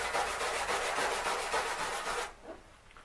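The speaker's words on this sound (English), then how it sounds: "If the paint-free panel has been exposed to air for longer than 15 minutes, it will need to be cleaned with a stainless steel wire brush." A stainless steel wire brush scrubs a bare metal panel in rapid back-and-forth strokes, a close, harsh rasping that stops abruptly near the end, followed by one faint scrape.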